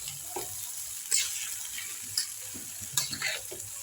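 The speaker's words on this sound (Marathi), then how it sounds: "ही भाजी मी तेलात चांगली परतून घेतली, म्हणजे थोडीशी शिजवून घेतली।" Mixed vegetables sauté in oil as a soft, low sizzle with a few sharp scraping and stirring knocks from a spoon against the pan.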